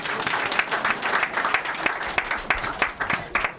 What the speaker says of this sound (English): Make una clap for him